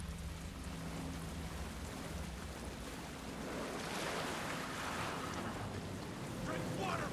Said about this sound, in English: Good rain sound effects.